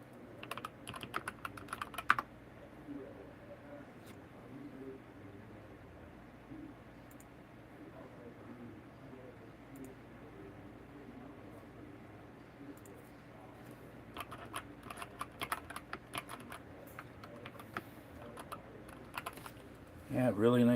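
Someone types on a Keychron mechanical keyboard, producing close, crisp key clicks in bursts at the start and near the end, with a quieter stretch in the middle.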